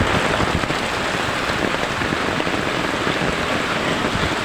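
Heavy rain pours down continuously during a flood, a dense, loud hiss of drops hammering surfaces with no letup and no voices.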